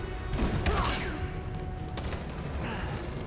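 Gunfire in the video game Detroit: Become Human strikes the player's squad: a dense, loud burst of shots and impacts over a constant rumbling game soundscape, with a second flurry near the end.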